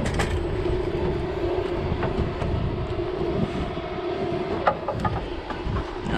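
Airplane passing overhead near a house-framing job site, a steady broad engine roar that stays loud and even throughout, with a few faint knocks and taps from work on the frame.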